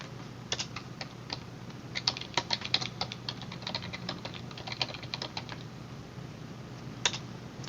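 Code typed on a computer keyboard for a simulation program: a soft, steady patter of keystrokes with bursts of faster typing and brief gaps, over faint background hiss.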